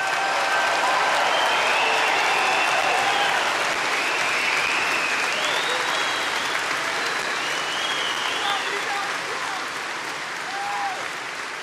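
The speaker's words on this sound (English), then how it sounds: "we want to give them a big, big, beautiful round of applause." A large crowd at a presidential speech to an NRA gathering applauds veterans with loud, dense, continuous clapping and faint cheering whistles that hold steady for over ten seconds before easing slightly.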